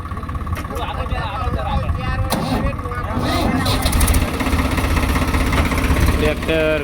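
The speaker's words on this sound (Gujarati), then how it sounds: "ટ્રેક્ટર ઘડીક થઈને બંધ થઈ રહ્યું છે કારણ કે કલેજનો પ્રોબ્લેમ છે" A Swaraj 742 tractor with a clutch problem runs with a steady, rough mid-pitched engine rumble, close and loud, while people talk over it throughout.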